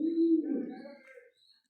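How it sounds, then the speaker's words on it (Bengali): Pigeons on a pigeon farm coo while eating feed, a low throaty warbling coo close by that swells and fades over the clip, with a few faint higher chirps. "দেখেন আমার কবুতরগুলো এখন দেখতে পাচ্ছেন আমি সবগুলারে খাবার দিচ্ছি। এখন সবগুলা কি সুন্দর মতো খাচ্ছে।"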